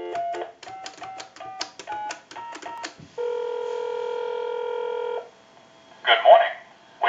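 A telephone on a test line dials out a call: a quick series of close, clear DTMF tone bursts, then a steady two-second ringback-style tone, followed by a short burst of noise.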